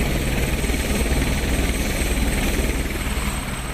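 Loud, continuous helicopter noise at a road cycling world championship race, a dense roaring wash with steady rotor throb that stays close and constant throughout, no voices.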